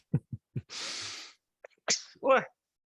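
A single sharp sneeze with a short breathy burst, followed by a few quick vocal sounds and a brief murmur.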